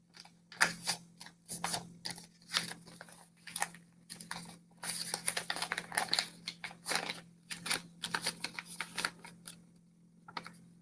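Recycled paper being folded into origami, with dense bursts of crinkling, rustling and creasing at close range, separated by brief pauses, under a faint steady hum.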